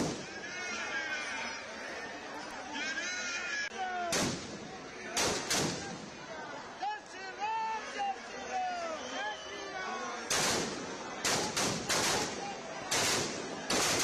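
Firecrackers burst in sharp cracks and loud volleys during a Dussehra Ravan Dahan celebration, with chattering crowd voices carrying throughout between the blasts.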